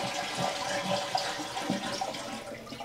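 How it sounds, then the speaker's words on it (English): A toilet being flushed to drain the water from its tank before a bidet is fitted, producing a steady close rush and gurgle of draining water that runs unbroken for about three seconds. "So, so just flush out all the water that's in there."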